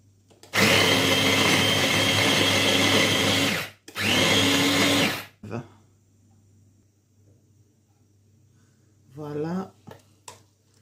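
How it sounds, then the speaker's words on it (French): A blender whirs loudly in two bursts, a long run and a shorter one, mixing ginger, garlic and shallot, then stops; a voice speaks briefly afterward. "On va mixer d'abord ça."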